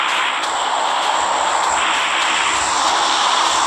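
In a video game, an airplane engine drones loud and steady overhead, a broad continuous roar that holds constant level throughout with no talking.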